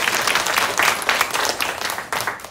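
A church congregation claps warmly for the children who sang, a dense and fairly loud round of applause that holds steady with uneven bursts throughout.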